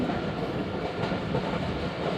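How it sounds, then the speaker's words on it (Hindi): A train passes a railway station with a dense, continuous rumble and roar that stays loud and close throughout. "साहब रेलवे स्टेशन पास हो रही है ट्रेन।"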